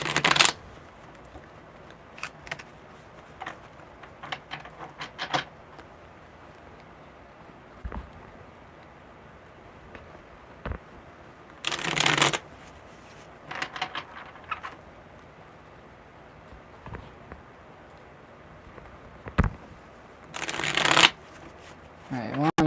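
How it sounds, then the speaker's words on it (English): Tarot cards are shuffled in several quick riffling bursts spread across the stretch, with soft handling noises and quiet pauses in between. "one more good shuffle"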